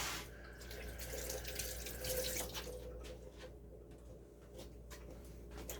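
Tap water runs steadily into a kitchen sink as fresh parsley is rinsed for homemade hummus, a constant close hiss with no talking.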